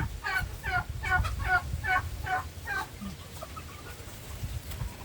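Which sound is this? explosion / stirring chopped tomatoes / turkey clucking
turkey clucking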